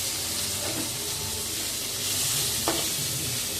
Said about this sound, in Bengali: এখন দিয়ে দিতেছি রসুন হলুদ আর রসুনটা আগে